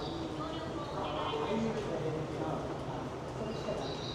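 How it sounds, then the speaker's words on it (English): Recorded birdsong plays softly through speakers in a large echoing Tokyo subway station, mixed with a steady hum and murmuring voices in the background. "it's fake birds chirping."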